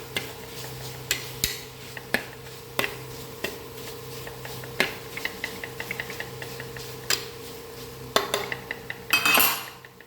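Leafy greens stirred in an open cooking pot: a ladle or spoon repeatedly clinks and scrapes against the metal pot at an irregular pace, with a louder rattling scrape near the end, no voices.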